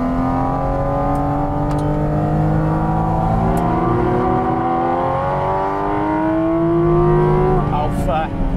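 A Porsche 718 Cayman GT4 RS engine revs hard and loud from close inside the cabin, its pitch sweeping upward through the range in a sustained howl with a brief dip before climbing again.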